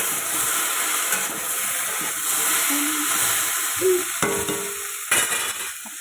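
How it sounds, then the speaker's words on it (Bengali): Okra and potatoes frying in a pan, a loud hissing sizzle broken by stirring scrapes and a few metallic clinks of a utensil against the pan, with no speech. "ঢেঁড়স আলু ভাজা হয়ে গেছে।"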